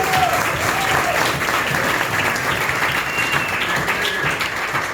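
Dense, continuous applause from a church audience during a Christian worldview sermon, a loud, even wash of many hands clapping together, with faint voices mixed in beneath it.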